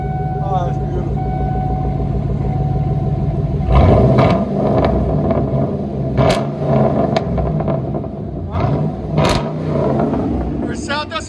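A 2008 Hummer H3 Alpha V8 with true dual straight-pipe exhaust, muffler, resonator and 5-inch tips idles with a deep, loud rumble, then is blipped repeatedly into sharp, aggressive revs, with a voice talking over it.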